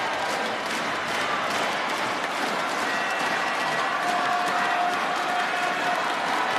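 Spectators at the 2009 Indonesia Open badminton match between Taufik Hidayat and Peter Gade applaud, a dense, steady wash of clapping from a large crowd that holds for the whole stretch.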